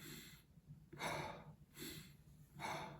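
Quiet, steady breathing during a breathing exercise with a hand resting on the belly: four soft, airy breaths in an even rhythm, heard close and alone.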